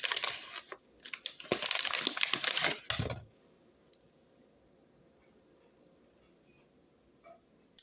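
Close, crunchy bites and chewing on a dry crispy chicken sandwich with ranch and no bacon, loud for about three seconds, then near silence with a faint click at the end.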